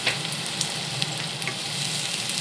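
Chopped onions and green chillies fry in hot oil. A dense, even, close sizzle carries scattered crackles and light stirring throughout, with no voices.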